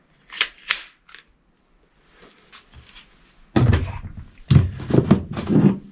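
A pistol being drawn firmly from a retention holster, with several short close clicks and scrapes followed by louder rubbing and thumping handling of the gun and holster.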